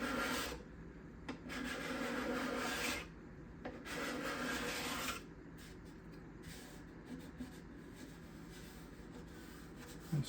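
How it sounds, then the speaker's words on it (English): A heavy hand scraper rasps along the back side of bindings in long, loud strokes with brief pauses, then continues as lighter, quieter scraping, with no talking. "I'm going to go to the heavy scraper here."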